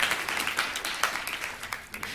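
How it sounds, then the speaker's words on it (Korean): A church congregation claps for a choir member, a fairly soft, scattered burst of applause that tapers off over a couple of seconds. "박수 한 번만"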